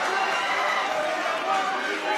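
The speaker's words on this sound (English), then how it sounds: "And yet another big crowd pop as he does so." A crowd at a Beatdown Promotions fight event roars and cheers in a continuous wash of noise, with a commentator's voice running underneath.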